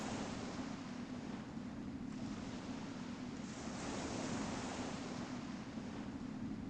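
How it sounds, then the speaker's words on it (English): Ocean surf in EverQuest rolls on as a steady, soft wash of waves and wind, even and fairly faint throughout, with no voices. "Ah, the pleasant sounds of the ocean."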